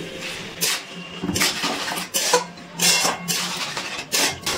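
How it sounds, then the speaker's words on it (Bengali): Sugar being stirred into spinach in a cooking pan, a series of soft scraping and clinking strokes of a utensil against the pan, coming in irregular bursts close up. "চিনি ভালো করে মিশিয়ে নিচ্ছি।"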